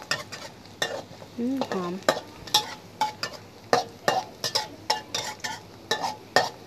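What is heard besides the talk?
garlic frying in a pan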